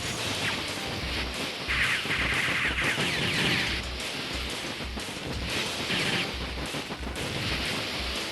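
Repeated gunfire from shooting Terminators in a video game, a fairly dense stream of shots and impacts over game music and effects, moderately loud throughout.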